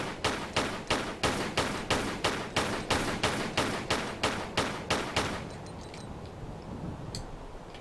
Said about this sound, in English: So now just go ahead and shoot them.